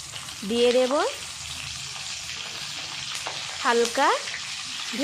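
Asafoetida, green and dry chilies, bay leaf, coriander and whole garam masala fry in hot oil for dum aloo, making a steady close sizzle while a voice talks in two short bursts.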